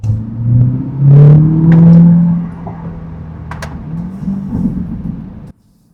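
C8 Corvette with a Yonristic valved exhaust burbling after a remote start, a deep rumbling idle that swells and settles with popping burbles, loud and close, then cuts off abruptly.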